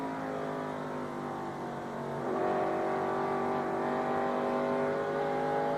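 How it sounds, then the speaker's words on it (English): A 1991 NASCAR Winston Cup stock car engine roars steadily down the back straightaway of the Goodwrench 500, its pitch climbing as the driver gets into the throttle, loud and continuous with no talk over it. "if you've been listening to Rusty's engine, we're down that back straightaway"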